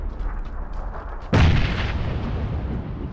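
A single heavy grenade blast from a PUBG-style shooter game bursts sharply after a quiet lead-in, then trails off in a long rumbling decay.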